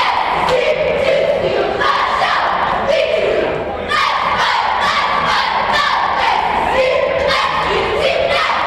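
Varsity cheering squad chanting and a crowd cheering loudly at a high school boys' basketball game in a gym, rhythmic shouted chants rising and falling continuously, with a brief dip midway.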